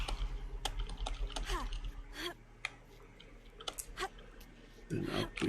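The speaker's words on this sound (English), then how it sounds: "Excuse the keyboard sounds." Computer keyboard typing during a game stream, sparse irregular key clicks and taps at close range with quiet pauses, under intermittent talk.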